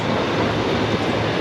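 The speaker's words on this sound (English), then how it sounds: "There's one of the trams" A tram passes in Bilbao, Spain, giving a continuous, loud, broad rumbling rush with steady intensity throughout the short stretch, with no talking.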